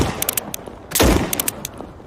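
A snub-nose handgun fires in the SCP 5k video game, a loud close shot with sharp crackling clicks and mechanical rattles before and after, no talk.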